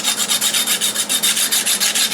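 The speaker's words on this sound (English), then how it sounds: "So what I'm going to do is deburr it," Rhythmic rasping strokes of a deburring tool on the edge of a fabricated steel helmet side piece, about a dozen quick, even scrapes close up, with no talking.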